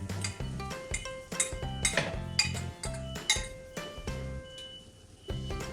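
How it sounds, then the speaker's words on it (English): Chaffle batter is spread across a waffle maker with a utensil, giving a run of light, irregular clinks and scrapes of metal on the hot plates, close and fairly quiet with no talking. "we're going to try and spread this as evenly as we can over the waffle maker"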